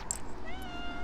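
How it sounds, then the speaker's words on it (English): A cat following someone outdoors in a New Zealand city gives one short meow, close by, with faint street background and no talk. "I've got a cat following me."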